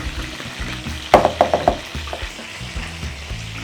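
A spoon mixes salad with mayonnaise (salad cream) and a little ketchup in a bowl: a quick cluster of close, wet scraping clicks midway, then softer, sparse stirring, with no talking.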